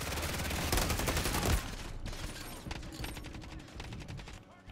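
Dense, loud gunfire from a shooting video game, a rapid burst that peaks early and then continues as quieter, scattered shots with no one speaking over it.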